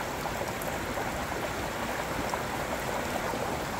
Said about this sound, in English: you see the water's falling over the edge. That's the top. That's the top of the falls.